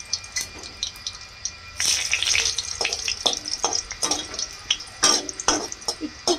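Dried red chili and a bay leaf fry in hot oil in a home kitchen while a crab dish is prepared, a close, steady sizzle and crackle broken by scraping stirs and brief louder bursts.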